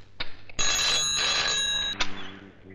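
A telephone bell rings in one sustained burst of shrill, buzzing tone, clear and close, with brief clicks before it and a short tail after.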